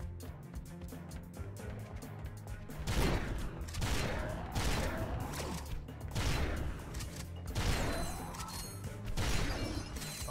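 Weapon fire and reloading in Ratchet & Clank 2: bursts of blasting shots and mechanical clanks come in repeated waves over a low game soundtrack, fairly quiet overall.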